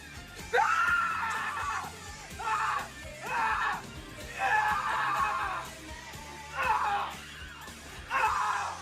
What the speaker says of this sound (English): let's just watch this guy scream for a second.